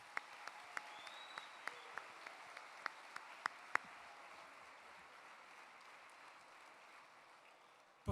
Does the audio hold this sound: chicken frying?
no